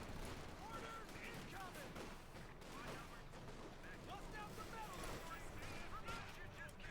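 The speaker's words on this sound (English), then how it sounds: "More pack howitzer fire here." Pack howitzer artillery fire in the World War II strategy game Company of Heroes 2 rumbles in a dense, continuous battle din, with distant booms and scattered gunfire layered together and a voice talking over it.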